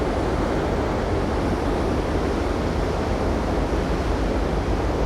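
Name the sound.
churning water beside ferry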